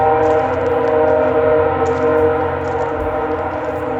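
A freight train rolls along a railway beyond a lake in Halifax, Canada, its horn blaring in long, steady sustained tones over the continuous rumble of the wagons, loud and close throughout.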